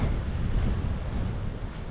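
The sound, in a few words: strong wind blowing into the microphone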